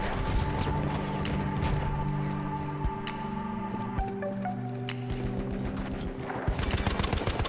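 An M1917 MG Low Weight machine gun fires in Battlefield 1, rapid sharp bursts of shots close up over a dense, noisy battlefield background with mechanical clatter.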